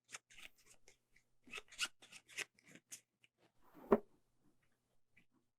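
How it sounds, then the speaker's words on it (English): AI deck of cards shuffled for the board game Raiders of Scythia, quick flurries of crisp riffling and snapping card sounds close by, ending in a single sharp tap, quiet overall. "Time to shuffle up."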